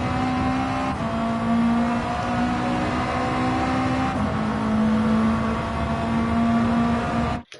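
A Gr3 race car's engine in Gran Turismo 7 at Deep Forest Raceway drones steadily with a few pitch steps as it slows under braking, loud and continuous before cutting off abruptly.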